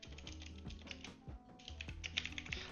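Typing text on a computer keyboard, a quick irregular run of close, crisp key clicks with short pauses, no voices.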